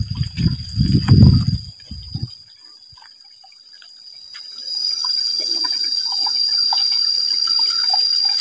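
Low rumbling sounds give way to a soft, steady rush of a river flowing through forest with faint trickles, heard at a moderate distance under a high-pitched tone.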